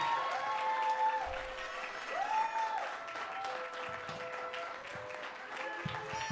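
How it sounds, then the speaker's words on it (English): Steady applause from an audience fills the whole stretch, with cheering and a few raised voices carried along over it. "Let's give them a round of applause."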